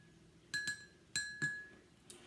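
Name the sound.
spoon stirring water with food coloring in a glass cup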